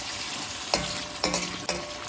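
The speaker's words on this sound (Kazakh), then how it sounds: "Енді осыны тағы да 10 минут қайнатамыз, қуырамыз етімізді." Meat frying with onions in a pot for Uzbek plov, a dense continuous sizzle broken by a few scraping stirs of a spatula, close and loud.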